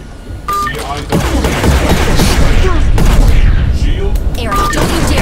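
Rapid close-in weapon system cannon fire in the aerial combat video game Nimbus INFINITY, a loud sustained roar of bursts layered with jet and combat noise, with brief electronic beeps near the start and end.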